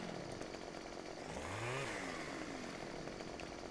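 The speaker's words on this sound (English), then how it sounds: "I can access both chainsaws now" A chainsaw in the Farming Simulator 2015 video game drones continuously at a steady, quiet level, with a short rising and falling rev in the middle.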